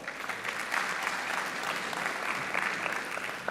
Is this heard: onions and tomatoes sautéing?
no